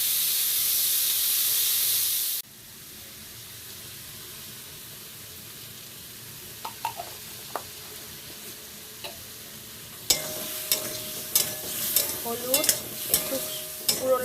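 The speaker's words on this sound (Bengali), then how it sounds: "নিরামিষ আলুর দম একদম সিম্পলভাবেই করবো আলুগুলো ভেজে নিই আগে" Potatoes frying in a pan, first a loud hissing sizzle that cuts off abruptly, then quieter frying with scattered taps and later repeated spatula scrapes and clinks, no speech.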